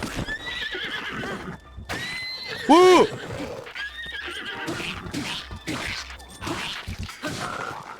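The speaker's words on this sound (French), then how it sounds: "T'es fou de toucher à mon cheval." A horse whinnies loudly in The Legend of Zelda: Breath of the Wild, a single rising-and-falling neigh in the middle, with game effects around it and a voice talking and exclaiming before and after.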